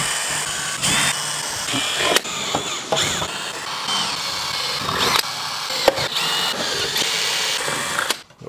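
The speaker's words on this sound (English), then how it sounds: "Next step, we got to drill pilot holes for the rivets." A power drill bores pilot holes for rivets during a Land Rover Defender 110 camper build, with a continuous whining hum and bursts of higher-pitched grinding that start and stop, close and loud, without talk.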